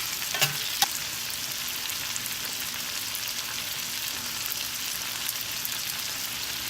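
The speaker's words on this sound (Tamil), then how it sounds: "இந்த தக்காளி ஜூஸ் மட்டும் கொஞ்சம் வந்து ட்ரை ஆகிற அளவுக்கு வதங்கினா போதும்" Tomatoes sauté in a pan for an egg dish, giving a steady, moderate sizzle throughout. A couple of brief utensil knocks come early, and there is no talk.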